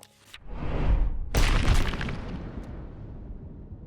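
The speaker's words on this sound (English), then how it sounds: "both males clash, creating an explosion that travels far and wide in the snowy highlands" Two clashing male Grunkuts set off an explosion in the snowy highlands: a short initial boom, then a louder blast whose deep rumble fades slowly over several seconds.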